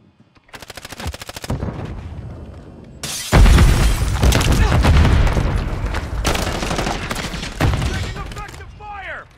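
Loud, dense bursts of automatic gunfire in Call of Duty: Modern Warfare III multiplayer, rapid rattling volleys with sharp booms and crackles, pausing briefly and then resuming heavily with layered shots throughout.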